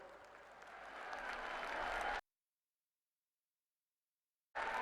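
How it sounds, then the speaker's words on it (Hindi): A large crowd in a pandal at a political rally in Dausa, Rajasthan, claps loudly to welcome the Prime Minister, with swelling applause, a sudden dropout to silence, then clapping resuming. "एक बार इस पंडाल में माननीय प्रधानमंत्री जी का, माननीय नितिन जी का जोरदार तालियों के साथ आप अभिनंदन करें"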